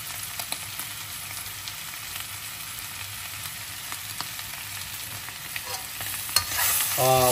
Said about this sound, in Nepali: सुन्न सक्नुहुन्छ मजासँग अब पाक्ने बेला आउँछ नि भुनेर पड्किरा छ